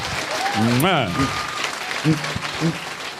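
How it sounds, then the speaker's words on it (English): Audience applause at a live panel event, a steady wash of clapping beneath loud whoops and cheering voices that rise and fall near the front. "give them a big round of applause for even getting this far and knocking it out"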